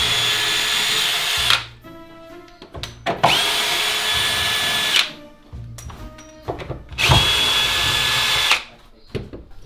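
Power drill driving screws into oak, three long high-pitched whirring bursts of about two seconds each with quiet pauses between, loud and close.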